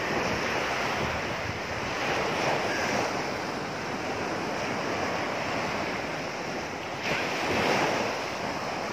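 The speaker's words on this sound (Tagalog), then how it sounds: "Ang lakas kasi ng alon." Strong ocean waves wash onto the shore in a steady, loud roar of surf, with wind buffeting the microphone and a heavier surge swelling near the end; no voices.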